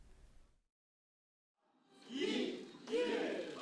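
A crowd of party officials erupts in cheers as Moon Jae-in's election win in the 2017 South Korean presidential vote is confirmed. After a brief silence, shouts and applause swell loudly in two surges, with voices mixed in.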